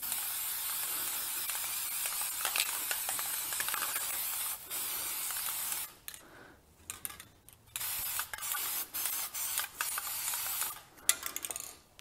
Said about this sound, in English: all we need to do now is just spray them up